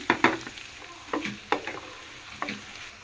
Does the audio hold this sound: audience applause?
no